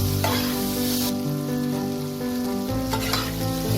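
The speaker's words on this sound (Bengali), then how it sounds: "এই বেগুনটাকেও আমি মিডিয়াম ফ্লেমে একটু ভেজে নেব।" Eggplant frying with turmeric and salt over a medium flame, a steady close sizzle with occasional stirring scrapes and no talking, joined partway through by a louder burst of frying.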